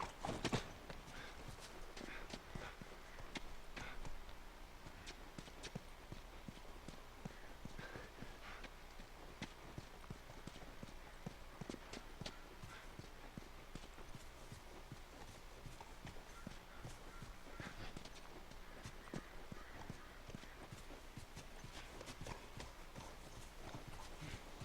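Horse in The Last of Us walking with a continuous, fairly faint clip-clop of hooves, in a steady rhythm throughout.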